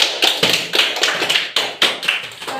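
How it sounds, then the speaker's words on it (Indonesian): A small classroom group of students claps hands in a quick, uneven run of sharp distinct claps, close and fairly loud, with no speech over them. "mari kita tepuk tangan kepada Kiran."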